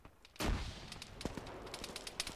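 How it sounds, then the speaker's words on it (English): Sustained automatic gunfire from a machine gun in the Arma 3 military shooter, a sharp onset followed by a steady stream of rapid cracking shots, fairly close and continuous. "He's still shooting at me."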